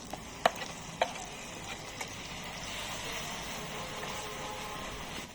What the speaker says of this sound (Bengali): এবারে আমি টমেটো বাটা দিয়ে দিচ্ছি